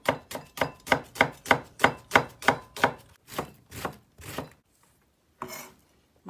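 A whole onion is chopped on a board with a steady run of about a dozen crisp knife strikes that slow down and fade, followed by a pause and one last cut.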